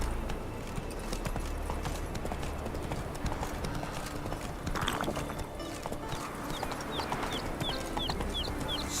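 Roach the horse gallops in The Witcher 3: Wild Hunt, rapid rhythmic hoofbeats drumming steadily over an outdoor game ambience with faint bird chirps, continuous throughout.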